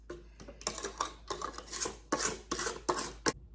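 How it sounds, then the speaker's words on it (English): A spatula scrapes down the sides of a mixing bowl of snickerdoodle bread batter after vanilla is added, giving a string of short rasping strokes, close and fairly loud, with no talking. "Just gonna scrape down the sides."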